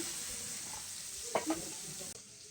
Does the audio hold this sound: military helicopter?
no